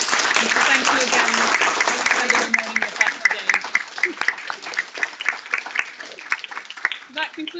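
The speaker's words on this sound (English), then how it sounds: "I'd like to give a round of applause to everyone" Audience applause at the close of a ministerial climate Q&A session, dense clapping at first that thins into scattered individual claps and fades out, with brief talk mixed in early.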